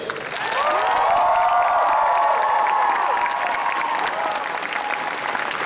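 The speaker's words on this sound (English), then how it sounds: "let's just give one final amazing round of applause to all our guests so they can hear you backstage" Convention crowd at an anime con's opening ceremonies bursts into loud, sustained applause with cheers and whoops rising over it, a dense roar that stays strong before easing slightly at the end.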